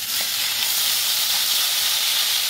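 Tomatoes just added to a pan of softened onions for a South Indian tomato kuzhambu, giving a steady, loud hiss of frying that holds evenly throughout with no talking.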